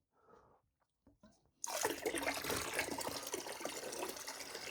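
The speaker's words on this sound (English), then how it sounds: "I just take the rest of the water to fill up this bucket from the water column" Running water gushes steadily into a bucket during a nano reef aquarium water change, starting abruptly after a few quiet seconds of faint handling sounds and continuing as a close, constant pour.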